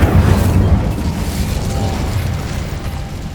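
An Incendio fire spell cast in Hogwarts Legacy: a loud, roaring fiery burst that holds steady as a dense rumbling whoosh for several seconds, heard without any talk.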